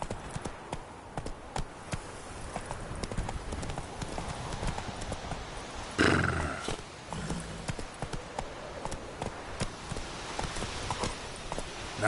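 Roach the horse clip-clops at a gallop across terrain in The Witcher 3, rapid rhythmic hoofbeats throughout, with a brief louder burst midway as the rider urges the horse on.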